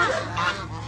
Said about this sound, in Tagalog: Gansa man yan.